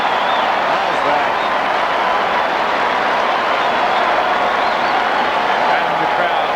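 A large football crowd at a 1997 AFL Round 14 match between Adelaide Crows and West Coast Eagles keeps up a steady, dense roar of cheering throughout, with a commentator talking over it.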